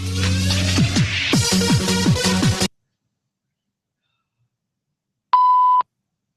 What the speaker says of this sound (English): Sensor beep going in there.